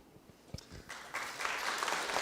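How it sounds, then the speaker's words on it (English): Audience applause at a Fresno city council meeting swells after a faint, quiet start and continues as a steady clatter of many hands through the end. "Give them a big round of applause"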